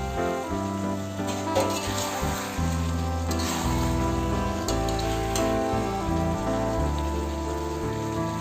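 Potatoes and peas are stir-fried with spices in a hot pan for aloo matar, giving a steady, rain-like sizzle with light stirring under continuous background music.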